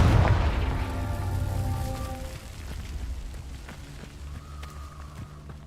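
A Confringo explosion spell cast in Hogwarts Legacy: a heavy boom at the start that decays into a rumbling, crackling tail with faint ringing tones fading over several seconds.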